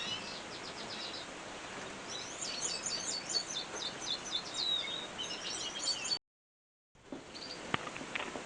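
Small caged birds chirp and twitter in a birdroom, a bright, busy chorus of quick calls over a soft background hum, broken by a short gap and a few sharp clicks afterward.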